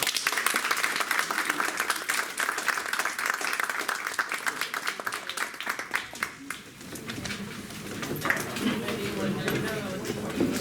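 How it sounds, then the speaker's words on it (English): An audience claps for the panelists at the close of a policy discussion, dense continuous applause from a sizable crowd that gradually thins and fades, with background chatter and a few clinks of dishes toward the end. "if we could thank our panelists, give them a round of applause"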